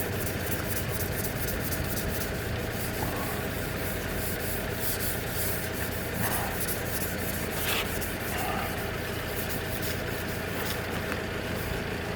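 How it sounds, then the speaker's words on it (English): A car rear bumper being gently scuffed with 600 grit sandpaper, a continuous dense rasping rub that runs unbroken throughout, close and fairly loud, with no voices. "I'll get a 600 sandpaper, and then when I've wiped it clean with the thinners, I'll just gently scuff again."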